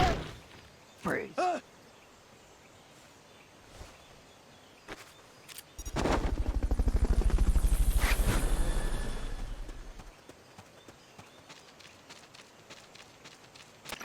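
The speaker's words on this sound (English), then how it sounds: "Fulton recovery subject confirmed onboard helicopter." A helicopter in the video game Metal Gear Solid Peace Walker swells in over a few seconds with a pulsing rotor chop, peaks loudly, then fades away, framed by brief scattered game effects.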